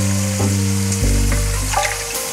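Duck meat hits hot spices in a pan with a loud, close sizzle that surges as the pieces land and keeps frying steadily, with a few stirring clinks near the end of a village curry preparation.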